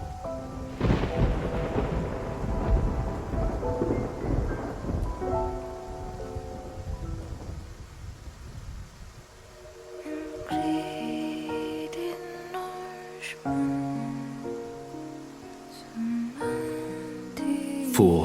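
Thunderstorm at sea in the game Love and Deepspace: a loud rolling thunder crack with heavy rain early on, then the storm fades beneath dramatic tonal music that carries the rest.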